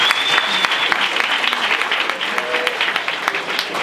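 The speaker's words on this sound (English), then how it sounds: "we're going to give a round of applause" An audience at a business pitching event breaks into sustained applause, a dense close wash of many hands clapping that holds for several seconds before thinning slightly.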